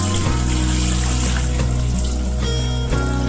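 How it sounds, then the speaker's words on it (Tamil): Water poured into a pot for a large batch of chicken biryani, a steady continuous splash and gush running throughout, close and fairly loud, with no talking. "தண்ணி ஆட் பண்ணுறேன்"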